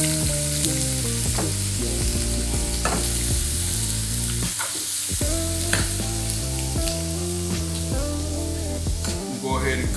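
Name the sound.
onions frying in olive oil in a skillet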